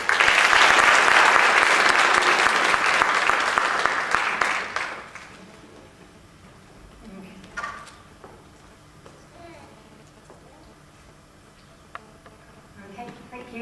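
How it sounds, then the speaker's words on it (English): A crowd applauds at a talk, a loud, dense burst of clapping lasting several seconds before it quickly fades to a quiet room with a few scattered sounds. "round of applause."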